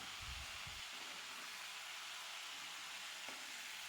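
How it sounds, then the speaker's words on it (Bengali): Salted hilsa fish frying in hot oil, a faint, steady sizzle and hiss running unbroken through a short stretch, with a few soft low bumps at the start. "মাছগুলোকে আমি তিন থেকে চার মিনিট ভেজে নিয়েছি"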